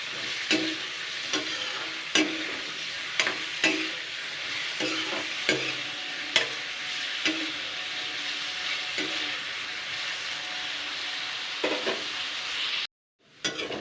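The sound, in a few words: sliced potatoes frying in oil with salt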